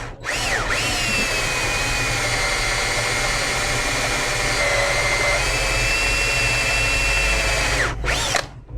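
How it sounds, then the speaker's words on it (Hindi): A power drill fitted with a hole saw bores a large hole through plastic on a homemade mini drill build, a loud, steady whine running nearly nine seconds that spins up at the start and winds down at the end. "ड्रिल की मदद से हम यहाँ पे एक बड़ा होल करेंगे।"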